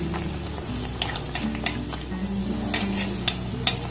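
Luchi puffing up while deep frying in hot oil, giving a steady bubbling sizzle with repeated light metallic clinks of a utensil against the pan, with no talking.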